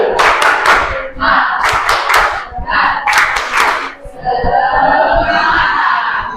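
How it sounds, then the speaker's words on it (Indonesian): A group performs a rhythmic spirit-clap routine outdoors, loud close bursts of synchronized clapping and slaps in patterned sets, followed by shouting and cheering voices. "silakan semuanya tepuk semangat."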